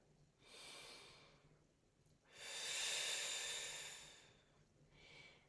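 Slow, deep breathing in a quiet yoga class, a soft airy inhale followed by a long, louder exhale and the start of another breath, with no talking.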